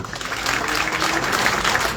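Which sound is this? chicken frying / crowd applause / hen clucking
crowd applause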